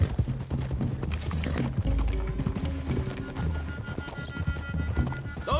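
Several horses gallop in a video game, a rapid rolling clatter of hooves with an occasional whinny under a busy soundtrack layer, sustained and fairly loud throughout.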